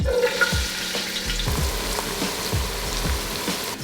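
Onions sizzle in olive oil in a stock pot, giving a steady close crackle and hiss with a few soft knocks and stirring sounds on top.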